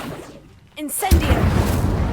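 In Hogwarts Legacy, a brief voice calls out just before the Incendio fire spell erupts in a sudden booming burst, followed by a sustained crackling, rushing roar of flame.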